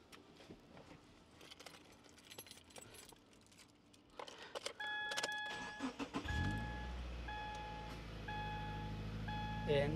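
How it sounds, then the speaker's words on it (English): A Subaru Crosstrek fitted with a dual battery setup cranks and its engine fires at about six seconds, then settles into a steady close idle. Electronic chimes from the car ring just before the start. "I'm going to start the car one more time"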